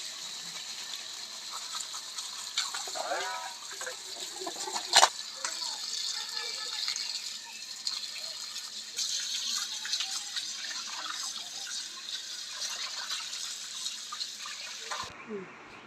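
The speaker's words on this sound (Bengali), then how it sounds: "এখন ধুয়ে নেওয়া হবে।" Tap water runs steadily over sorted vegetables as they are washed in a home kitchen, a soft continuous splash with faint handling clatter, while someone speaks quietly.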